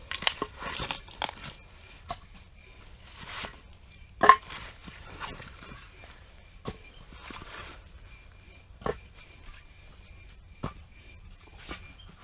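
Split firewood is handled and stacked beside a small stove inside a canvas hot tent, with sparse, quiet knocks and scrapes of wood spread irregularly over a hushed background.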